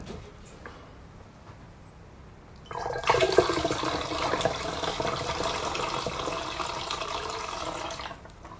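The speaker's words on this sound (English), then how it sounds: "So now I can add a little more water." Water poured into a container, starting abruptly partway through as a loud, steady splashing gush that continues for several seconds before tapering off, preceded by a quiet lull.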